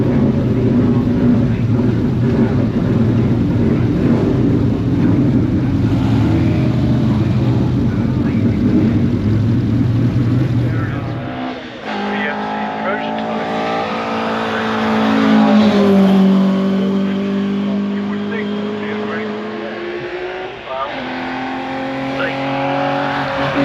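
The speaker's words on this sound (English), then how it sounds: "the Buckler Mark 5 Supercharged, which is trying to be reversed in by Keith Thomas" A supercharged Buckler Mark 5 engine drones loudly at a Shelsley Walsh classic hillclimb, then shifts to a higher, revving note as the car is reversed in, with other engine noise around it.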